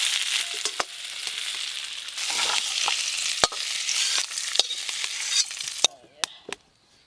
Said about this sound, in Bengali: চিচিঙ্গাগুলো কিন্তু ভালো করেই ভাজা ভাজা হয়ে গেছে, এবার ঢেলে নেব।